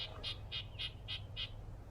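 Birds outdoors give five evenly spaced, sharp squawking calls. The calls are faint and distant over a low, steady background rumble, and nobody is talking.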